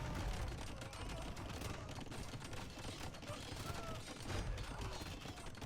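Hand cannoneers and bombard cannons fire in an Age of Empires II battle as dense, overlapping gunfire bursts and booms. A commentator talks over them the whole time.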